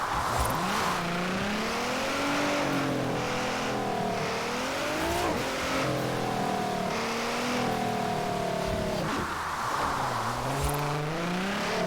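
Car engine revving in Forza Horizon 4, loud and continuous, with rising and falling pitch sweeps as the car accelerates, shifts gears and slows through a city.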